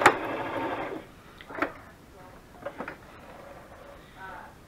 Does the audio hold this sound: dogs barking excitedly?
no